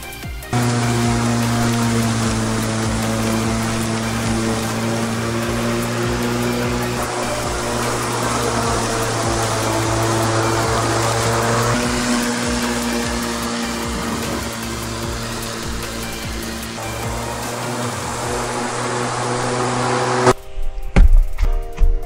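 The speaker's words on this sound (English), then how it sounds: "we gotta go mow the lawn" A petrol lawn mower runs steadily while mowing a lawn, a loud continuous engine drone with a strong low hum that holds for about twenty seconds before cutting off near the end.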